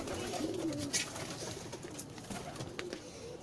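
Pigeons coo softly outdoors in hot weather, with low murmuring calls and a few brief chirps over a steady background hum, and no talking.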